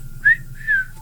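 A person imitating a mysterious whistle heard near a lift, producing two short whistled notes, one rising and one gliding down, over a low steady hum.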